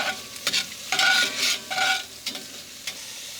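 Smoky pork chunks fry and render their fat in a hot pan for a spicy ragu, a steady close sizzle swelling and fading with bursts of crackle as the pieces are stirred.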